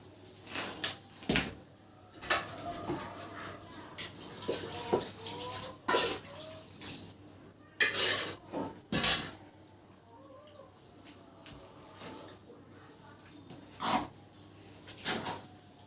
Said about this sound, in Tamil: நான் எல்லாத்தையும் ஊத்தி கிளறேன்.